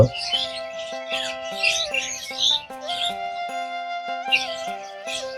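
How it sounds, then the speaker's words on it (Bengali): Birds chirp in busy, overlapping twitters around a rural riverside char house, over a steady tonal hum underneath, moderately loud and close throughout. "কত পাখিদের কিচিরমিচির শব্দ"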